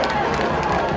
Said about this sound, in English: that noise you're hearing is the away crowd, Stockdale Mustang crowd